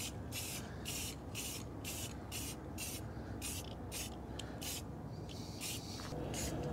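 Rust-Oleum plastic primer sprayed from an aerosol can onto a sanded cast resin sculpture, in a series of short hissing bursts with brief gaps between them, loud and close with no talk.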